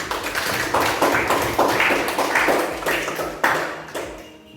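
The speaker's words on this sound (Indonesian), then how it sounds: "Iya, tepuk tangan." Classroom students clapping hands together in short rhythmic bursts, a series of fairly close, sharp claps repeated about once per second, fading slightly at the end.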